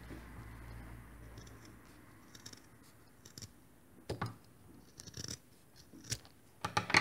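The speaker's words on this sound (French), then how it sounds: "on coupe le surplus qui est derrière la couture" Scissors snip excess denim fabric behind a sewn seam of a bag made from jeans, heard as a few close, sharp cuts and scratchy snips scattered over a quiet background.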